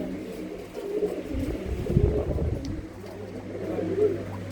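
Pigeons in a village loft coo softly, low murmuring calls rising and fading over a faint steady hum, with no voices nearby.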